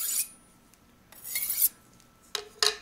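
A Work Sharp knife sharpener grinds a knife blade in three short rasping passes, bright and close, separated by quiet gaps with no talk.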